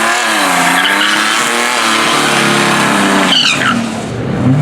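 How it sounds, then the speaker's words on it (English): A Buick Grand National and a red Tesla Model S Plaid launch in a drag race, with loud engine noise, tire squeal and a rising whine that sweep past and fade near the end. "we got the Grand National going up against the red Plaid"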